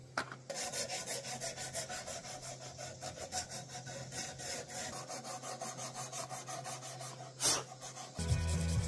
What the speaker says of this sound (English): Now, let's clean up these tenons. Plumber's abrasive cloth so we can get up on that flexi game.